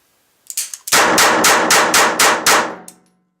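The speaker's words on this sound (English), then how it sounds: "And also with the Remington ammunition from the other view." A Walther TPH .22 LR pistol firing Remington ammunition: a couple of faint clicks, then about eight loud sharp shots in a fairly even rhythm, close by and with no talking.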